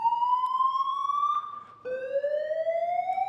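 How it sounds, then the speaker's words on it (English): Fire alarm sounding during a conference talk: a loud, continuous electronic tone that slides slowly upward, breaks briefly, then resumes at a lower pitch and climbs again. Nobody speaks over it. "hopefully this was a fake alarm"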